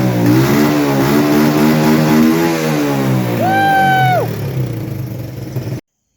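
A Honda ATC 200E three-wheeler's small engine runs loud and close, revving up and down in steady pulses before cutting off abruptly near the end.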